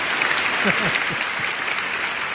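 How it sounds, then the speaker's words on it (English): Applause from a small audience at a podcast taping, a steady patter of clapping with a few speech-like sounds mixed underneath. "Let's give you applause."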